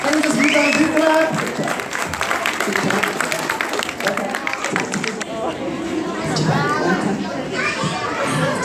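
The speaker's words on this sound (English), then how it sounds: "Give them a big round of applause." Applause and children's shouting fill a church hall, loud and sustained for several seconds, with kids' voices and chatter mixed through the clapping.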